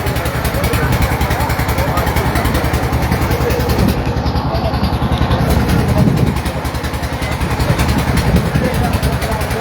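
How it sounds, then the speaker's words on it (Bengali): A motorboat engine drones steadily and fairly loudly, with a rapid throbbing pulse, as the boat moves slowly toward Singhapur in Nabiganj, Bangladesh. Faint voices are mixed in beneath it. "আমাদের নৌকা আস্তে আস্তে এগিয়ে যাচ্ছে আমাদের গন্তব্যের দিকে।"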